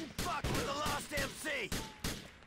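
Burst of SMG gunfire in Grand Theft Auto 4: The Lost and Damned, a string of rapid sharp cracks repeating through the whole moment, loud and close, with tonal game effects sweeping over them.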